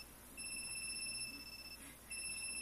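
An alarm clock rings in the video game Calling: a steady, bright electronic tone that sounds continuously, cuts out briefly, then resumes. It is moderately loud and plays alone with no talk.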